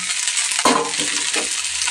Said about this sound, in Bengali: এবার আস্তে আস্তে করে হালকা হালকা নেড়ে নেবো, আর এই সবজিগুলো এবার দিয়ে দিচ্ছি।